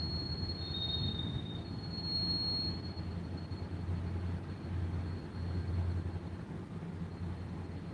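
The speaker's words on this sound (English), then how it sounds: "Might be our first train of the day." A train rumbles past near a river, a low steady rolling drone with a faint high wheel squeal at the start, moderately distant and continuous, with no talking.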